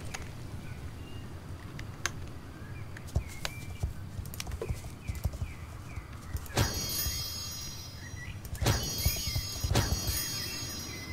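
Hooves clip-clop in the Star Stable Online horse-riding game, a light rhythmic trot under chirping birds, with a few sharper thuds and a bright shimmering chime swelling in later on.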